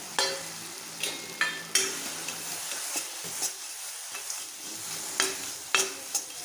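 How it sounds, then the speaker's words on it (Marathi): Jaggery melting in a pan for coconut laddoos is stirred, with a steady soft sizzle of the frying and repeated scraping strokes of the spoon against the pan, close and fairly quiet, with no talk. "आता यामध्ये आपण गूळ टाकूया"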